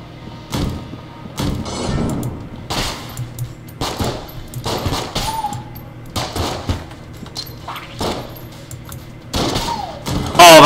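Gunfire from a pistol that turns into a shotgun on reload in Enter the Gungeon, a string of sharp separate shots at irregular intervals, loud and close, with people talking between the blasts.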